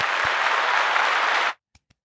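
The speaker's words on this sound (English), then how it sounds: "We need an applause for this." Studio audience applause celebrating a comedy podcast's 100th episode, a dense continuous clatter of clapping for about a second and a half that cuts off abruptly, followed by a few scattered isolated claps.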